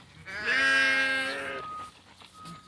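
Sheep and goats bleat at a farm on St Croix: one loud, drawn-out bleat lasting about a second, followed by quieter farmyard noise.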